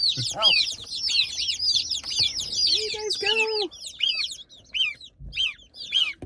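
A box of newly arrived hatchery chicks and young poultry, including geese, fills the space with a dense, continuous chorus of shrill peeping and chirps, close by, with people talking in between.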